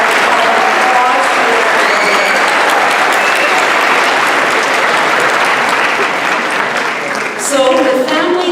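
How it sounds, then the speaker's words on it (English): Loud, sustained applause from a graduation ceremony audience, dense clapping that fills the hall for several seconds, with a few voices and whoops rising near the end. "so please give her applause."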